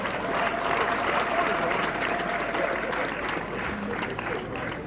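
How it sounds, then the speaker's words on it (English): Steady applause from a ceremony audience, loud and continuous from start to finish, with crowd voices mixed into the clapping. "You give a huge applause, ladies and gentlemen."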